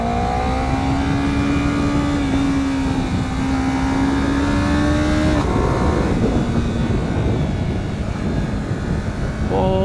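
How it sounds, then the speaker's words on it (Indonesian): A 2023 Honda CBR250RR motorcycle in sport riding mode accelerates hard, its engine note rising steadily in pitch, dropping at a gear change and climbing again, loud and close, with wind rush. "Oke, gas lagi. Riding mode sport."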